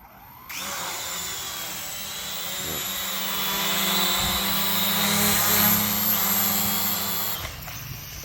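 Small wet FPV drone motors, after a pool dunk test, whir up suddenly into a high, buzzing whine that swells slightly, holds for several seconds, then cuts off.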